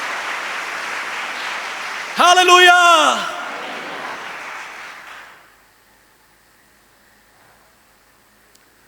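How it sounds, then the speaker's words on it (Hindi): A church congregation claps in praise, a steady wash of applause that fades out after about five seconds, with a voice calling out over it before silence. "तालियां बजाएं और उसको धन्यवाद दें"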